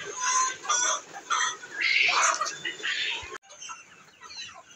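Black Australorp chickens on a poultry farm cluck and squawk repeatedly in a busy, close-up burst of poultry chatter with no one talking.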